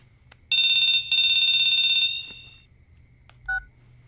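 An electronic telephone rings with two long, loud buzzing bursts separated by a short gap, then a brief softer electronic tone, set in a quiet room in a Hindi thriller scene.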